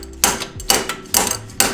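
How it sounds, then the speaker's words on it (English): Four loud, sharp hammer strikes ring out close by at an even pace, knocking a bolt out of a shock absorber on a BMW E36 during a coilover install. "Probably gonna have to hammer this out."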